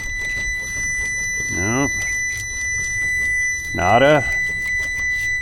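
A high electronic beep from a multimeter sounds steadily throughout electrical testing of a vehicle wiring harness and ECM connectors, with someone speaking briefly over it.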